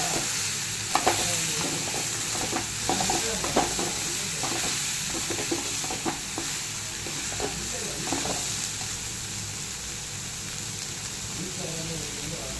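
Cauliflower added straight into a simmering spiced gravy in a pan, without pre-frying: constant bubbling sizzle with repeated close scrapes and clacks of a stirring spoon, steady and moderately loud.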